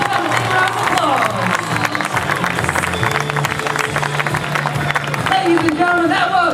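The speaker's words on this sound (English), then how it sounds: "Let's give them a big round of applause." A crowd applauds and cheers for a water ski jump team at a national show ski tournament, with clapping and hubbub running under loud music and a voice talking throughout.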